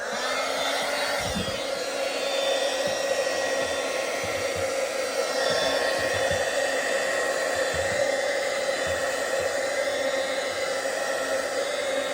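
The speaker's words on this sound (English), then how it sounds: "Got this heat gun thing here. We'll give this guy a shot." A heat gun blows steadily on an addressable heat detector of a Notifier NFS-320c home fire alarm system, making a loud, continuous whooshing roar for the whole stretch with no speech.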